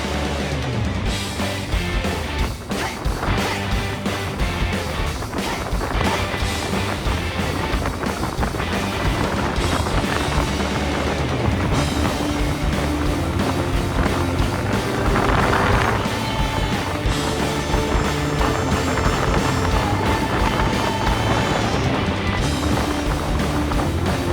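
An outboard motor on an Action Craft 1760 BAYR skiff runs hard under throttle, a loud sustained roar mixed with rushing water and heavy wind buffeting the microphone throughout.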